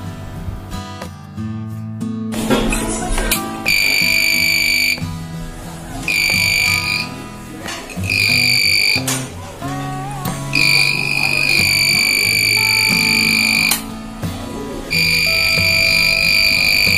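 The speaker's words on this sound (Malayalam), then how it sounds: "ഇതാണ് നമ്മൾ ഉണ്ടാക്കിയെടുത്തിട്ടുള്ള നോൺ കോൺടാക്റ്റ് വോൾട്ടേജ് ടെസ്റ്റർ വിത്ത് ബസർ" A homemade non-contact voltage tester with a buzzer sounds a loud, shrill electronic tone in repeated on-off bursts of varying length, after some brief clicks and handling noise at the start.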